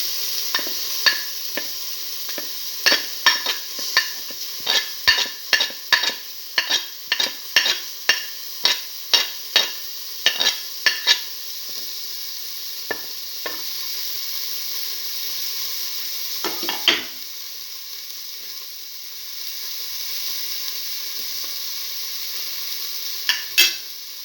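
Shallots and fennel seeds sauté in a hot pan for black lentil rice, a steady sizzle broken by a quick run of sharp scraping stirs, then a quieter stretch with a few louder stirs near the end.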